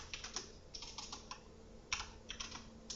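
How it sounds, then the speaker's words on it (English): Quiet close-up typing on a computer keyboard, irregular clusters of light key clicks with a brief pause in the middle, no voices. "I'm just going to type it is all about the Greek"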